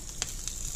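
Sausage sizzles in bacon grease in a pan as a faint, steady hiss with a couple of brief crackling pops.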